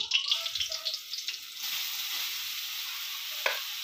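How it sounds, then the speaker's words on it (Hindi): Carrots drop into hot ghee in a kadhai, first a few wet splashes and clinks, then a steady close sizzle that settles into an even frying hiss. "घी में गाजर डाल दिया है कढ़ाई में।"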